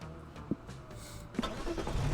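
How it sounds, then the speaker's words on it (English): Car engine noises from the Monster Prom 3 road-trip game, a faint mid-pitched motor hum with a couple of brief bumps and a slight rise toward the end, no talk. "This car makes weird noises"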